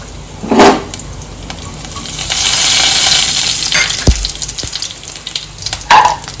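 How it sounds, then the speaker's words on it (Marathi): Mustard seeds, cumin and asafoetida hitting hot oil, a steady hiss of sizzling with sharp crackles and pops, plus a few clinks of a utensil against the pan. "तेल गरम झाल्यानंतर मोहरी जिरं आणि हिंग टाकणार आहे"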